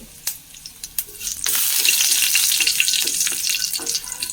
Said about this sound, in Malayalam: വെളിച്ചെണ്ണ ഒഴിച്ചിട്ടുണ്ട്. കുറച്ച് കടുക് ഇട്ട് കൊടുക്കാം. 2 ഉണക്കമുളക് ഇട്ട് കൊടുത്തു.